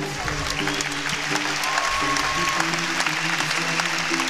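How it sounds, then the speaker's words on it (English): Sustained crowd applause for the 2009 Western Athletic Conference champion Wahine volleyball team at a ring presentation in an arena, a dense steady patter of many hands with tonal arena sounds beneath. "how about another nice round of applause for your 2009 Western Athletic Conference Championship Wahine Volleyball Team"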